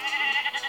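A sheep in the Wrecky Ball video game gives a single short, nasal bleat, close and clear, with no one talking.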